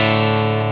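Electric guitar played through a Klon-style overdrive into a Deluxe Reverb amp capture, a loud sustained distorted chord ringing steadily with rich harmonics for under a second.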